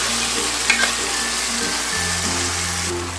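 Tomato pickle mixture with curry leaves sizzling and frying steadily in hot oil, close and continuous, with a low hum underneath and no talking.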